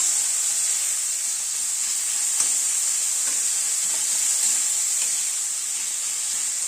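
Chopped tomatoes tipped into a pan of frying chana dal with prawns, giving a steady, close, even sizzle and hiss with a few faint stirring clicks, no voices.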